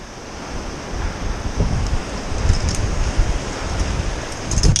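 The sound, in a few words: wind and ocean surf at a Cornish coastal mine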